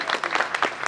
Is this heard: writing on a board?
no